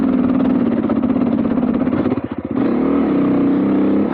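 The engine of a 2021 Beta 390 motorcycle revs loud and close, its steady throaty drone dipping into a brief sputter before picking back up.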